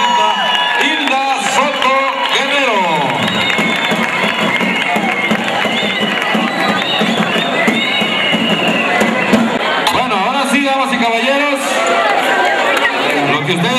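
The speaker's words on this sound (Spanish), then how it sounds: "un fuerte aplauso a la nueva soberana, embajadora de la belleza de la parroquia Peña María" A large crowd cheers, whoops and chatters loudly and continuously for the newly crowned parish beauty queen of Peña María at a coronation event, with voices overlapping throughout.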